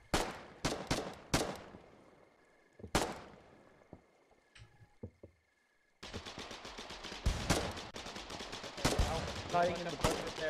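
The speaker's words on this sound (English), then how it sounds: "They're firing blindly." Gunfire in the Foxhole video game: several sharp shots crack out in the first seconds, then a denser spell of rapid shooting and distant fusillade fills the second half, with a quieter lull between.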